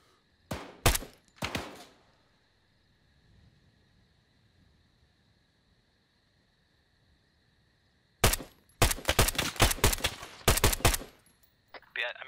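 Gunfire in the video game ArmA 3: a few sharp, loud shots early, then a long pause over quiet background noise, then a dense volley of rapid shots at close range.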